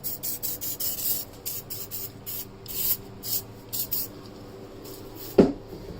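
WD-40 is sprayed in short bursts of fine mist, a series of close airy hisses with brief pauses between them, followed by a single sharp knock near the end, with no talking.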